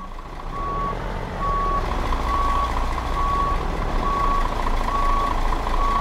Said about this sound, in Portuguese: O ronco desse caminhão tá bonito,